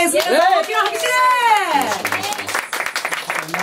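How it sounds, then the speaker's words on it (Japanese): An audience at a talk event welcomes a guest with clapping, mixed with excited vocal whoops and voices, starting after the cheers and growing into scattered, close hand claps. "大きな拍手で。"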